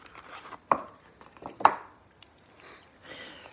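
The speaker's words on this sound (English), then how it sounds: "Pull the tin foil off." Tin foil pulled off an Easter egg, two sharp crinkling tears close by with soft rustling in between, quiet and without speech.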